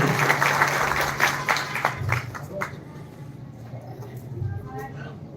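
Crowd applause honouring an award recipient at a family gathering, dense clapping that is loud at first and then thins out and fades, with voices speaking over it.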